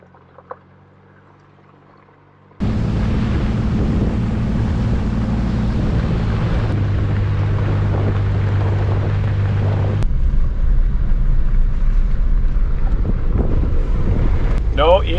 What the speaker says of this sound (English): We're driving right through Ophir right now, this little town up here in the mountains.